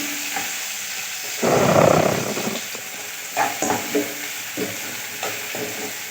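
Onions added to hot oil with fenugreek for a Tirunelveli urundai kuzhambu, sizzling moderately with a louder burst early on and then intermittent stirring scrapes and crackles.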